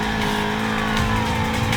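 Dark BMW M5 in the racing video game Need for Speed Payback during a police pursuit, its engine roaring steadily and loudly with continuous tire squeal layered over the drive.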